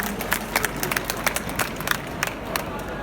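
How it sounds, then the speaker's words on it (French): Audience at a fan Q&A evening in Brussels breaks into applause, a dense wash of clapping from a crowd in the room, steady and fairly loud throughout with sharper individual claps standing out. "Eh ben merci, on peut l'applaudir."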